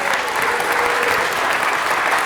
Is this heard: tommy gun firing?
no